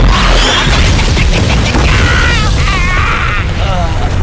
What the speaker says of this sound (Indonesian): aku ledakan saja kalian berdua